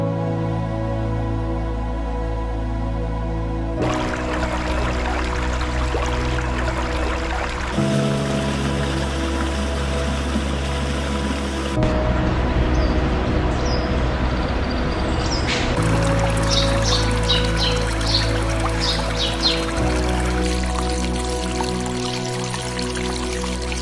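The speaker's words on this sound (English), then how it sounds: "Water singing through stones" A forest stream in Irati Forest in the Pyrenees runs and trickles over stones, a steady watery wash that is partly covered by a sustained musical soundtrack.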